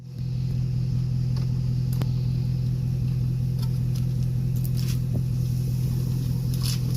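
A new Yamaha 25hp four-stroke outboard idles on a skiff out on the water during break-in, giving a steady, loud low hum with constant rumble that holds unchanged throughout.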